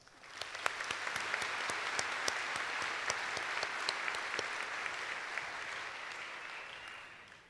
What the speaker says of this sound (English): Please now join me in acknowledging them with your applause.